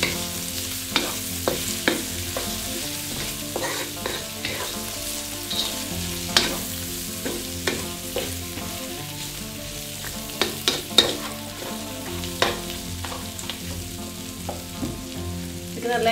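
Pork belly cooks slowly in black bean sauce in a pan, giving a steady sizzle and frying crackle with scattered sharper pops and clinks throughout, close and continuous with no talking.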